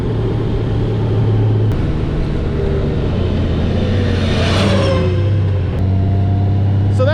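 A Honda Goldwing motorcycle rides along a Pennsylvania road, its engine humming steadily with shifting pitch as it changes gear, wind rush filling the background and a brief rising whine partway through.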